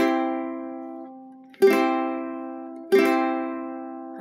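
Ukulele strummed with a 0.73 mm pick: three bright chords, each attacking sharply and ringing out in a long decay before the next, played up close with no voices.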